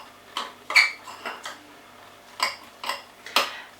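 Grated garlic is stirred into a bowl with a metal utensil while Chicken Kiev is being made, giving a few sharp clinks and scrapes against the dish, close and clear with short gaps between them.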